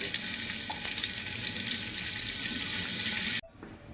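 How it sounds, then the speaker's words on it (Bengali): Loud, steady sizzle of food frying in hot oil, continuous and close, cutting off abruptly near the end. "তেলটা গরম হয়ে গেছে, এবার পেঁয়াজ দিয়ে দিচ্ছি"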